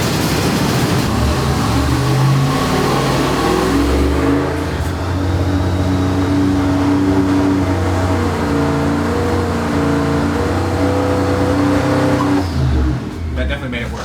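A modified car engine on a dyno, tuned with about 10 degrees of added timing advance, revs loudly and steadily with rough popping and a low, droning tone, cutting off near the end, with voices talking over it.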